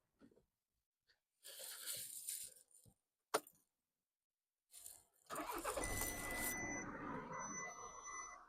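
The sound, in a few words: car engine starting and running, 2012 VW Tiguan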